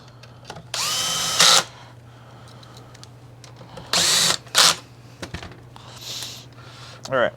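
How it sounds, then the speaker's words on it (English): A power screw gun with a built-in torque clutch drives screws while servicing a Kirby vacuum, giving several short, loud whirring bursts separated by quiet pauses. "I'm going to use this gun, which has a torque wrench kind of built in."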